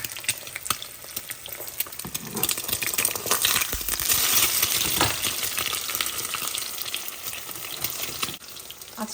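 An egg fries in a pan with a dense, steady sizzle and crackle, spitting pops scattered throughout and swelling a little partway through, close and with no talk.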